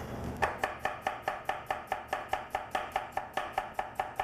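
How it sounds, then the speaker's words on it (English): A knife chops shallots steadily on a cutting board, about four quick, even strokes per second, close and crisp, with no talking. "we're going to chop them up slightly just so that the blender's easier"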